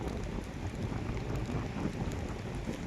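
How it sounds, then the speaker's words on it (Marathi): Light rain patters steadily and softly during crab catching, a faint even hiss with no voices. "थोडा थोडा पाऊस पडतोय"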